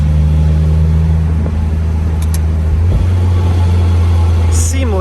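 Mazda MX-5 with a DCT gearbox accelerating, its engine drone rising and then dropping quickly as it shifts gear, heard from inside the car, steady and fairly loud, with a voice speaking over it.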